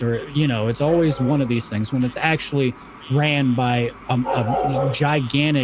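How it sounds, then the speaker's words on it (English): A pet dog barks and yips repeatedly in short bursts in the background of a podcast recording, mixed under a man's continuous speech throughout. "sorry about my dog. She barks at a lot of people."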